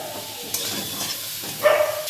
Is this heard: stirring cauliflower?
yes